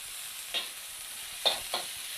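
Stir-frying with rice oil and pork fat in a hot pan while making mee sua noodles: a soft background sizzle with three brief scraping stir strokes, no talking.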